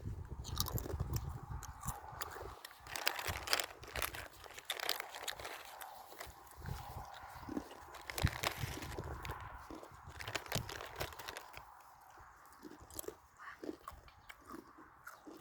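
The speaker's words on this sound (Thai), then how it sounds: "กินขนมกันนะคะทุกคน" A snack being eaten up close, with steady biting, crunching and chewing running through the whole stretch alongside some crinkling of a wrapper, and no talking.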